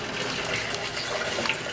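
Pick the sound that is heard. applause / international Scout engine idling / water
water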